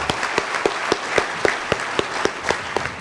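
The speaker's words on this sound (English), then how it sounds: "Give them one more round of applause." An audience at a 2015 Kansas Master Teacher Award ceremony applauds the honorees. A bed of clapping runs under sharp, evenly spaced claps that keep a steady beat throughout.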